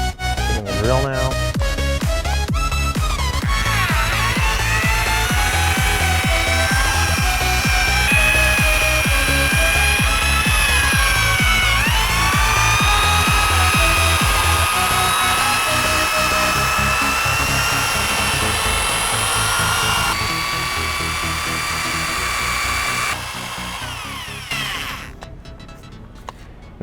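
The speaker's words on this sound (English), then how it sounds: "Taking the drill now." A power drill fitted with a scrubbing brush whirs continuously against a stained fabric seat, its loud motor whine rising and falling in pitch as pressure changes before winding down at the end.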